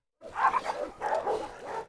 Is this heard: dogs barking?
yes